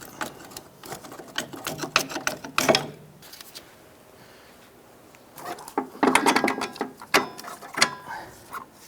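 A ratchet works on the strut-to-knuckle bolts of a 2001–2007 Ford Escape during a front strut replacement, giving bursts of clicking and clanking separated by a quiet pause. It sounds near and uneven, with no speech.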